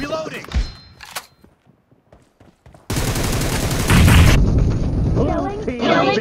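In a video game team deathmatch, a weapon reload gives a few mechanical clicks under scattered speech, then loud sustained automatic gunfire takes over and continues to the end.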